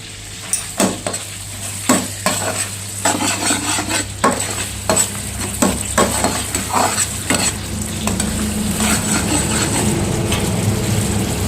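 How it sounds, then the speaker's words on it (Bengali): Onion and capsicum hit hot oil and gravy in a pan, with a run of rhythmic spatula knocks and scrapes at first, then a loud, continuous sizzling hiss settling in, close up and without speech. "তেল আমাদের গরম আছে। গ্রেভির মধ্যে অ্যাড করলাম পেঁয়াজ ক্যাপসিকাম"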